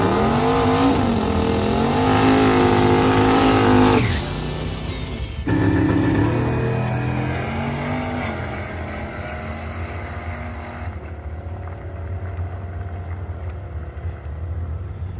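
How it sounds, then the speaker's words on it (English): A turbocharged Ford Mustang drag car running about 22 psi of boost makes a loud, close pass at a drag strip. Its engine roars and revs hard, a sharp break near four seconds, then the roar surges again and fades into the distance. "brought the Mustang right back up in the staging lanes to try and squeak in one more pass"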